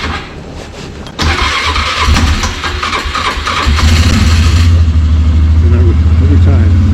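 A snow plow vehicle's engine starts and runs in the snow, loud and close, jumping up after a quieter opening and settling into a steady, heavier idle with some revving.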